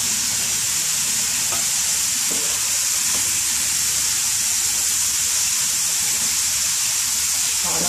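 Boiled, cut potatoes being stirred into spinach frying in a pan, a loud, steady, hissing sizzle with faint scrapes of stirring underneath.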